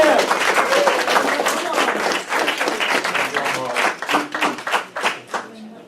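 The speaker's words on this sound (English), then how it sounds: "please a big round of applause to Chad for recording this" A round of applause at the close of a talk on producer-distributor contracts, brisk clapping from a modest group that thins into scattered individual claps before fading out.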